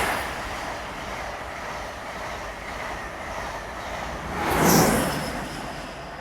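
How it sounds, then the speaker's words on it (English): A train passes close to the microphone as a low rumble of rolling cars that swells into a loud whoosh near the end, then fades away with a Doppler pitch shift. "The train comes, passes in front of the microphone, all the cars pass, and when the train leaves again, we have the Doppler effect"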